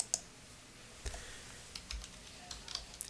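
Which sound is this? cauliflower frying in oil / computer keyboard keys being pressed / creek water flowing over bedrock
computer keyboard keys being pressed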